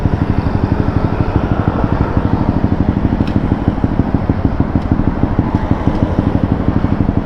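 A Honda RS 125 motorcycle engine runs steadily nearby, a loud rapid pulsing two-stroke putter held at a constant idle throughout, with a few faint clicks over it.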